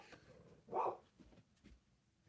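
A single short dog bark, fairly faint and distant, in a quiet indoor room.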